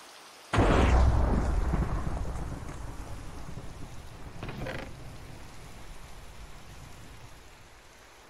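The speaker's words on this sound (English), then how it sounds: "Just stick your head out the window. Just catch some rain." Rain pours in Minecraft, arriving in a sudden loud wash with a thunder-like rumble that slowly eases into a steady hiss of falling drops, with no voices over it.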